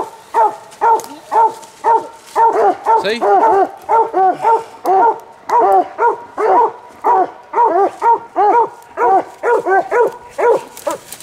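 A coonhound bays repeatedly at a raccoon treed up a limb at night, loud close rhythmic barks in quick succession, with a man's brief remark heard between them.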